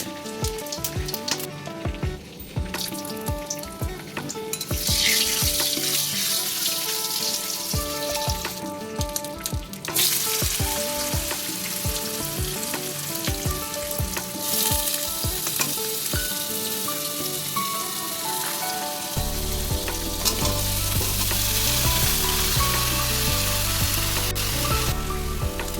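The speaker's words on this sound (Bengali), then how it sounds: "তারপর মাছের মাথা ভাজা হচ্ছে।" A fish head frying in hot oil in a home kitchen, a loud, steady sizzle and crackle running throughout, with occasional stirring knocks and scrapes close up, no voices.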